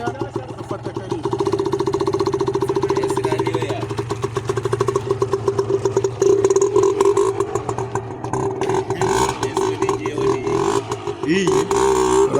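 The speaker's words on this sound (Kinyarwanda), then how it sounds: "Ugatera moto yawe umugeri" A motorcycle engine starts after a kick and settles into a loud, close, steady idle with a rhythmic clattering pulse and slight revs, running throughout.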